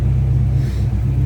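A turbocharged Mazda Miata engine rumbles steadily up close, a deep low throbbing idle with slight swells that hint at light revving, loud and without talk.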